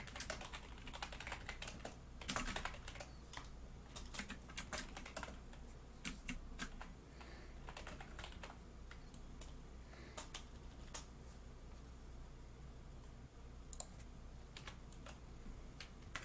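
Loud mechanical computer keyboard typing, a steady run of dense clacky keystrokes with a few sharper bursts, close and continuous throughout.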